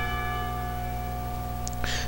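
Clock tower bells at a school in the visual novel Katawa Shoujo ring out as sustained, steady tones that hold through the whole stretch, with a brief brighter sound near the end.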